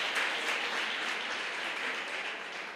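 A church congregation applauding during a worship service, a steady, dense wash of clapping from many hands that fills the room without pause and stays even in loudness throughout.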